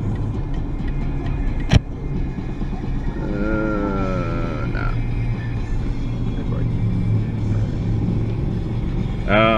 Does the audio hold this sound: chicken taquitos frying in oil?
no